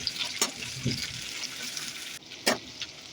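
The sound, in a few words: potatoes and onions frying in oil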